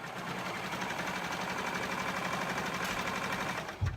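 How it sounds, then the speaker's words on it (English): A sewing machine stitches elastic into a tankini swimsuit, running as a steady, continuous close-up whir with no pauses before a brief knock right at the end. "So I'll start at the back and sew."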